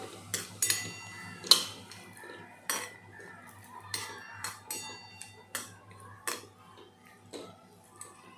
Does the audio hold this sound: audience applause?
no